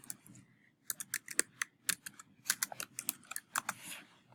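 Fingers type quickly on a computer keyboard while answering a Quizlet asteroid quiz game, giving close, crisp key clicks in irregular bursts with short pauses between them.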